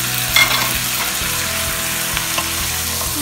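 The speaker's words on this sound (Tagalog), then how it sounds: "Lutuin natin yung chicken for a while." Chicken frying in a pan for tinola spits and sizzles loudly and continuously, up close, with a brief stir or clink near the start and no talk.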